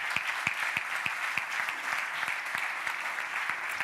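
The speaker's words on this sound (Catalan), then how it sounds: "Ara ja és moment de donar un fort aplaudiment a la Isabel Bernal" Loud, steady applause from an audience at a magazine launch in a Barcelona-area auditorium, dense clapping with a few sharper nearby claps standing out, no voices over it.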